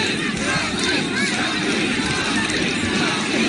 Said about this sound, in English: Crowd chanting Chunky, trying to rally behind James deGale.